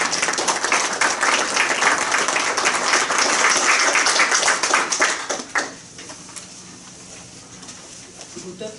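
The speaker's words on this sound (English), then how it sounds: "Please welcome Kanini with a round of applause" An audience at a church roundtable on nonviolence claps to welcome a speaker, a dense, loud burst of applause lasting about five seconds before it quickly dies away, leaving a quiet room with faint noise.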